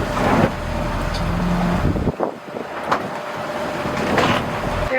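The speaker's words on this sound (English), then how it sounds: "The engine is still on." Steady engine drone of a 50 ft sailboat motoring on calm Pacific water, loud and continuous with a dip and a few brief knocks midway, no voices.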